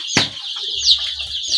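Young brooding chicks on a farm, flapping wings in a sharp burst near the start, then clucking and peeping in a steady chatter.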